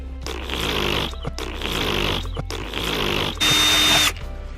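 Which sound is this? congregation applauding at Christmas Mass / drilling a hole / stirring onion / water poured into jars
drilling a hole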